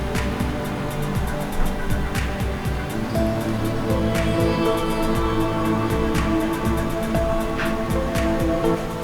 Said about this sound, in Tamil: இது கெட்டியாகாமல் இருக்க நல்லா கலந்துக்கிட்டே இருங்க